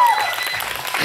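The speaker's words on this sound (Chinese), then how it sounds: "我们再掌声" Brief applause from a live concert audience at a small venue, a short patter of clapping over a fading sustained tone.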